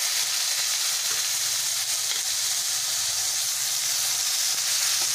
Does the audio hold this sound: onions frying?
yes